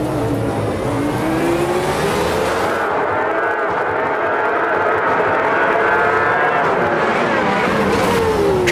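Race cars in the sim racing game Automobilista 2 roar continuously close by, engines revving and shifting as they battle for position, with a commentator talking over the steady engine noise throughout.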